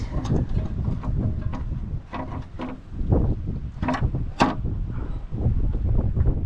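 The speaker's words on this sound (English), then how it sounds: "Oh, that wind. That wind is great." Gusty wind buffets the microphone outdoors while someone works on the engine bay of a 1997 Ford Crown Victoria, a steady broadband rush with louder gusts throughout and no clear talk.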